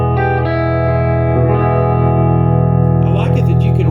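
Electric guitar played through a Bell 3723M PA head with overdrive, volume around six and tone controls at halfway, rings out in thick, sustained distorted chords that hold steady and loud for the whole stretch, with no talking.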